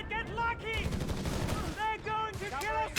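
Gunfire from German guns in the World War II strategy game Company of Heroes 3, rapid bursts of shots layered with rising tonal effects, dense and close over roughly three seconds, with a commentator talking over it.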